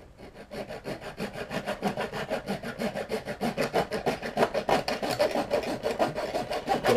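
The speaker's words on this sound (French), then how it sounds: "Je prends une lame de scie à métaux." A hacksaw blade cuts through a metal support with fast, regular back-and-forth strokes, each rasping pass clear and close, the rhythm steady and the strokes growing a little louder as the cut goes on.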